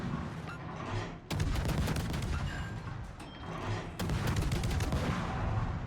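Cruiser guns firing in World of Warships, the French cruiser Colbert, rapid salvos rolling into a continuous fusillade of booms with two sharp jumps in intensity as new volleys begin, loud and dense.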